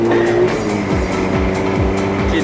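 A Ferrari drifting at the Interlagos circuit, its engine roaring loud and near with a rapid series of sharp upshifts and revving pitch rises, a high tire squeal riding over the steady mechanical roar.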